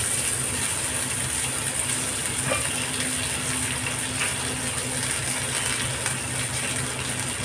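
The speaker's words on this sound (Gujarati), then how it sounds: "અને મેં 5 કપ જેટલું એમાં પાણી નાખ્યું છે." Water poured steadily into a cooking pan holding browned urad dal, mustard seeds, ginger-chili paste and coriander, a continuous close gushing splash running unbroken from start to finish with no talk.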